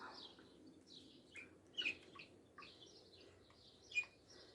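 A pet cockatiel gives soft chirping calls in short bursts, with a couple of sharper whistled notes, faint and fairly close in a quiet garden.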